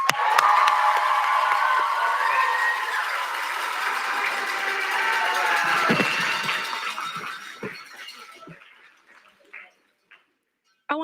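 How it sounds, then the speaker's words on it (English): An audience at the opening ceremony of the Texas Ambassador Great Debate bursts into loud applause mixed with whoops and cheers, holding steady for several seconds before tapering off into scattered claps and near silence. "please let's give this a round of applause"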